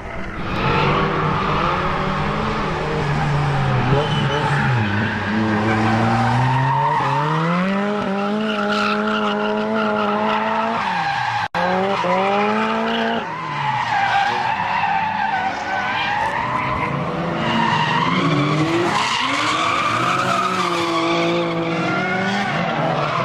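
A Nissan Skyline GT-R's engine revs and wails as tires squeal in long skidding slides during a twin drift at Mobara, the pitch rising and falling repeatedly through a sustained drift.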